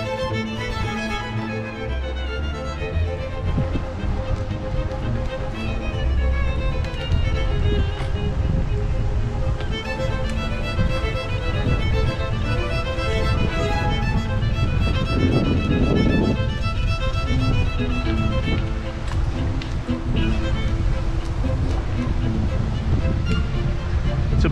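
Wind roars steadily across the microphone on a blustery day during a bicycle ride by an above-knee amputee, a constant heavy rumble and buffeting that fills the whole stretch, with speech partly under it.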